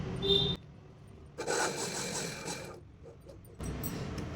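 A sewing machine stitches a saree fall, giving a steady mechanical whirr in two bursts separated by a pause, moderately close and with no talking.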